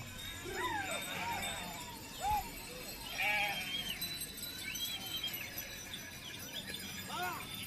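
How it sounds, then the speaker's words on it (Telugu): Several sheep bleat at intervals as they are led around a temple during a village festival, against a noisy outdoor crowd, some calls nearer and louder than others. "ఇట్లాగ గొర్రెల్ని గుడి చుట్టూ ఎందుకు తిప్పుతున్నారో నాకైతే తెలీదు."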